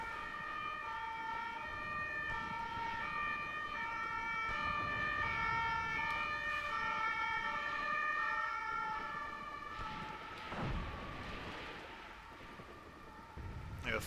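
Emergency vehicle sirens wail steadily outdoors, sounding faint and distant with rising and falling tones, while a low rumble and a brief thud sit underneath.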